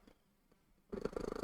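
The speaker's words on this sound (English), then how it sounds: "There's the purring of the cat." A domestic cat purrs close to the microphone, starting suddenly after a near-silent stretch and continuing as a loud, rhythmic, rumbling pulse.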